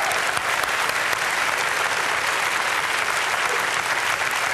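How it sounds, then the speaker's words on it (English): Loud, dense applause from a large audience after a European Commission presidential debate in Maastricht, steady and unbroken throughout. "Give a warm applause."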